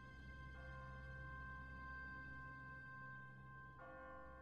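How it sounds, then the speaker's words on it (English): An automatic church bell rings in The Walking Dead video game, a sustained, resonant metallic tone that holds steady, then is struck again and swells near the end, faint and distant. "What kind of church bell goes off at 20 past the hour?"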